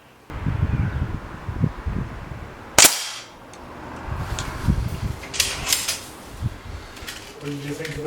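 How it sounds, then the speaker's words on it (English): A spring-piston air rifle fires at a paper target, giving one sharp loud crack near the middle among quieter handling noise and room hum, while a person talks softly. "springers are naturally loud because of the spring of it"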